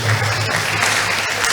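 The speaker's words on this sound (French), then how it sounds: "tu es applaudissant pour Jésus." Church congregation clapping together during a workers' meeting service, a dense, steady roar of applause filling the whole moment without pause.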